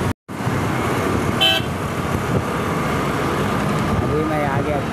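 Busy road traffic near the cable bridge in Madhapur, Hyderabad: a continuous loud roar of passing engines with a short horn toot and rushing wind noise throughout.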